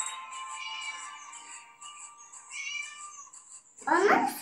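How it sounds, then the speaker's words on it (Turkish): Cat meowing in the Scary Teacher video game, a string of drawn-out high meows repeating across the clip, with a louder, harsher cry at the end, close and clear with no talk over it. "Miyav. Kedi nerede ki?"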